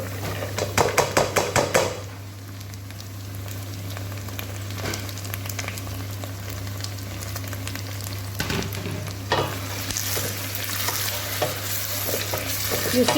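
Carrots tipped into a frying pan and stirred with meat filling, a loud opening clatter of pieces and utensil on metal, then a steady sizzle with repeated scraping and tapping strokes.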